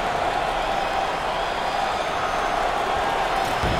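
A packed basketball arena crowd in the NCAA 08 video game roars steadily and loudly, a dense wash of cheering and applause during the 1982 North Carolina Tar Heels vs 1983 NC State Wolfpack matchup.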